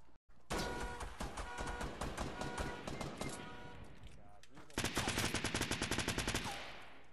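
Rapid SMG bursts in Fortnite rattle loud and close, two long strings of fast evenly spaced shots separated by a brief lull.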